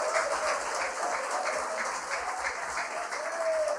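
A church congregation at a Myanmar service clapping together to welcome the preacher, a steady, moderately loud wash of hands throughout, with no talk.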